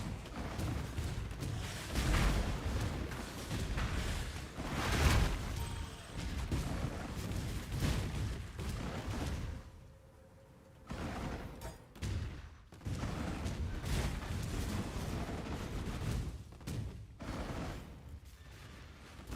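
Rapid, overlapping booms and blasts go off continuously in Path of Exile, with a short lull midway before the explosions resume, layered with clattering game effects.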